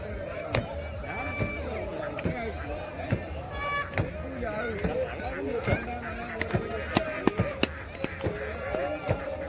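Ducks honking and quacking on a lake near a snake boat during a Kumarakom boat race, repeated calls close by over sharp knocks and splashy clatter, with people talking throughout.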